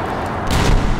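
A short, heavy explosion in Medal of Honor Warfighter, a loud low boom and rumble that swells in the middle of a brief moment.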